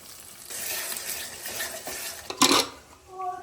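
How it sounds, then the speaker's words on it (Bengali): Whisked sour yogurt goes into a pot of frying mutton masala, bringing a steady sizzle and stirring scrapes and a loud wet burst partway through, with utensil clinks near the end. "এই সময় ফ্যাটানো টক দই দিয়ে দেবো।"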